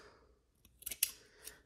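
Scissors make a few crisp snips as ribbon ends are trimmed on a small bow decorating a Christmas craft jar, quiet and close, with no talking.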